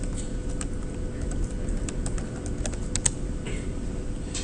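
Typing on a computer keyboard, a steady patter of light key clicks over a constant low hum, with a few sharper taps standing out near the end.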